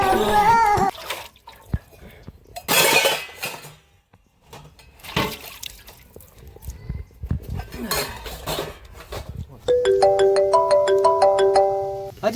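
A phone ringtone plays a repeating electronic melody of bright, evenly spaced tones, loud and clear near the end after clattering and brief background talk.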